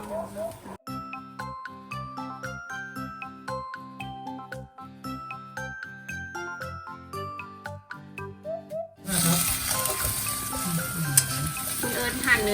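Beef for a Thai green curry sears in a hot pan over a very strong flame, a loud hissing sizzle that bursts in after several seconds of tinkling music and continues steadily.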